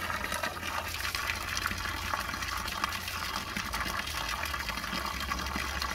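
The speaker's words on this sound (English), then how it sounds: "Give it some water." Water pours steadily from a hose or can onto a goji berry plant in a large wicking growbed container in summer heat, making a continuous, fairly faint splashing gush with no break.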